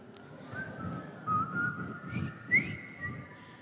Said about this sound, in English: How many of you can whistle?